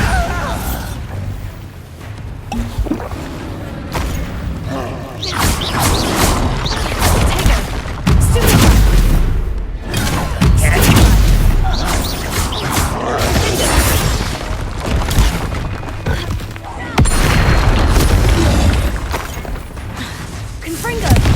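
In the Hogwarts Legacy video game, a Bombarda explosion spell bursts amid dense battle noise of booms, crashes and thuds, loud and continuous, with a voice speaking over the fighting.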